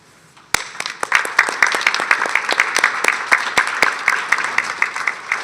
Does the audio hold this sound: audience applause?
yes